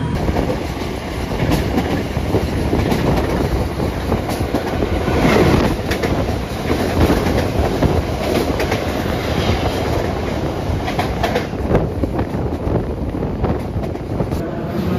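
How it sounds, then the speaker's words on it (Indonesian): The Jaka Tingkir economy passenger train rumbles steadily along the tracks with rhythmic clickety-clack of wheels and wind buffeting, continuous and loud from on board. "Kereta api Jakatingkir melanjutkan perjalanan."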